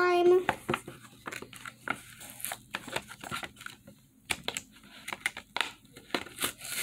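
A plastic toy slime package is opened by hand, close crinkling and tearing noises in irregular bursts with rustles and scissor-like snips while someone speaks nearby.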